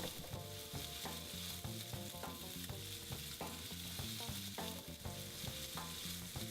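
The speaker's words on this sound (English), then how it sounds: "with our mushrooms, we're gonna cook these face down for 5 to 10 minutes" Mushrooms sear face down in a hot pan, giving a steady, close sizzle with a dense crackle that runs without a break through the whole stretch, and no one speaks over it.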